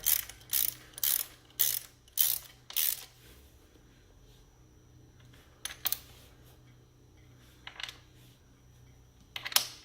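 A wrench tightens the axle pinch bolts on a Kawasaki KX450F motocross front wheel, with a run of quick ratcheting bursts at first, then a few scattered clicks after a pause, close and fairly quiet.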